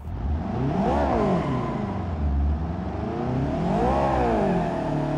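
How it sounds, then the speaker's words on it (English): A CVT-equipped car launches hard and accelerates, its engine droning loud and close near 8,000 RPM with two rising sweeps of pitch as revs climb, no voices present. "So I'm gonna launch it real quick now,"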